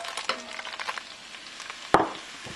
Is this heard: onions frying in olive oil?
yes